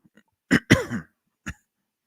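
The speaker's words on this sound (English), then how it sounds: "sorry, clear my throat." A short, close throat clearing in two quick rasps, followed a moment later by a brief single cough-like grunt, with silence around it.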